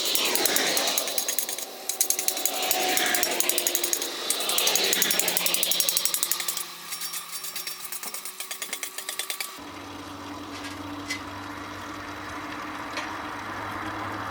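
A blade is honed on a Rositec stone, making repeated close scraping strokes in a rhythmic back-and-forth pattern, followed by a lower, steadier tonal hum in the final seconds.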